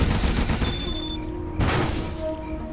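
In a video game, a Gatling tank fires a bullet barrage, with loud, dense bursts of gunfire and booms layered under in-game tones.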